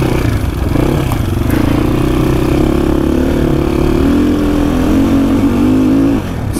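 A motorcycle engine drones loud and close as the bike climbs a mountain road through a landslide-prone area, holding a steady throbbing note with slight shifts in pitch and no talking.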